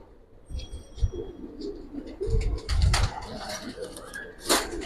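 Giribaz pigeons coo in short, soft repeated bursts, with scattered rustling, wing flaps and background chatter around them.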